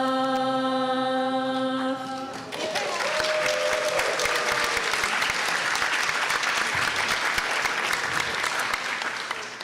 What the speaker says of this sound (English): I know you're clapping for us